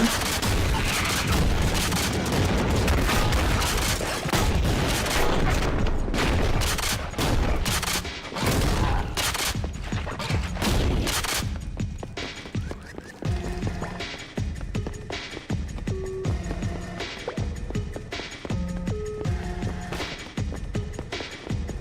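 Shotgun blasts in a Doom 3-style first-person shooter, heavy booming shots fired in a dense rapid string at first, then thinning to scattered single reports over game sounds.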